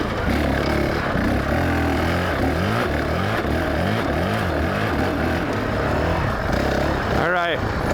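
A 2019 Honda CRF450X dirt bike engine runs steadily while riding, its rising and falling revs loud and continuous under someone talking throughout, with a sharp rev sweep near the end.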